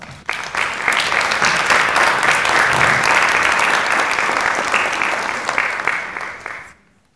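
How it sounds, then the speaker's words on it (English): An audience at a talk on environmental racism in Dartmouth, Nova Scotia applauds a speaker, with steady, dense clapping that fills the room for several seconds before fading out at the end. "please give Mr. Shepard a round of applause"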